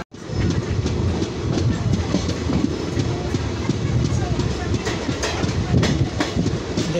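Moving passenger train heard from an open carriage door: loud, continuous rumble and rushing wind with clickety-clack of wheels over rail joints, steady throughout.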